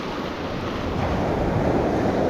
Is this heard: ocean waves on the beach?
yes